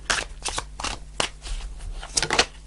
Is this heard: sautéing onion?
no